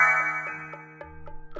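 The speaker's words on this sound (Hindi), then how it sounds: "तभी अविनाश की माँ का फोन आता है।" A phone ringtone in an animated Hindi love story, a bright electronic chime followed by several short repeating beeps, close and clear with no voices.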